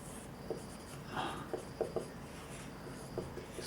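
Chalk or marker strokes on a classroom board during a concrete technology lecture: a run of short, close taps and scratches in uneven rhythm, quiet against a faint room hum, with no voice over them.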